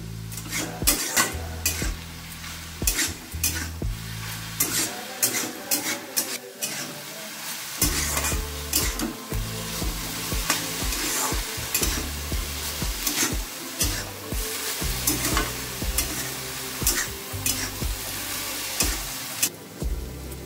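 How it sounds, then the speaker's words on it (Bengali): Red amaranth greens (lal shak) are stir-fried in a pan, a steady sizzle running throughout beneath frequent scraping and clacking of a spatula against the metal, close and busy with no talking. "এবার একটু ভালো করে ভাজা ভাজা করে নিই।"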